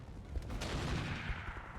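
Weapons fire in a BattleTech mech combat game: a quiet, muffled burst of rumbling shots and booms rolls by for under two seconds at low level.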